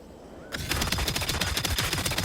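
An energy scythe throwing contraption in Trailmakers fires in a loud, rapid burst of repeated impacts, like a fast machine-gun rattle that starts suddenly and keeps going to the end.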